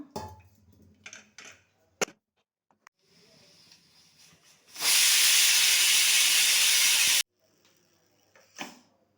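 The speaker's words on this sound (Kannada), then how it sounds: "ಆಲ್ರೆಡಿ ಒಂದು ವಿಷಲ್ ಹೊಡೆದಾಗಿದೆ" A loud, steady hiss of steam bursts from a pressure cooker whistle and rushes continuously for a couple of seconds, then cuts off abruptly, with quiet kitchen clatter before and after.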